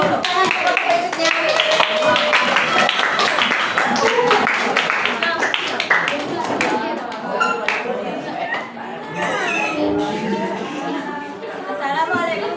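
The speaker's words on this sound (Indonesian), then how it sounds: "Kelompok kita beri tepuk tangan kelompok berikutnya" A junior high school class claps for a student group finishing its presentation, a dense, steady round of applause with scattered chatter from the pupils throughout.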